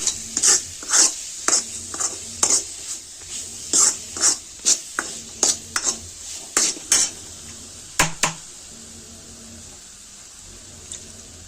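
Pav bhaji masala and gravy sautéed in a pan, with a spoon scraping and knocking against the metal in a quick, regular rhythm of about a dozen clear strokes, a soft sizzle underneath, then a couple of final taps.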